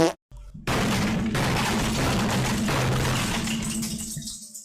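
Rapid bursts of Free Fire gunfire with recoil rattle continuously after a brief silence, loud and sustained, then cut off near the end.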